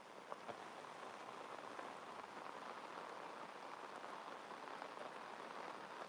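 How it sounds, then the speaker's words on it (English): Very heavy rain pouring during a thunderstorm with no wind, a dense continuous hiss of drops hitting surfaces, steady and quiet with a few sharper splashes. "hence the very heavy rain, but no wind"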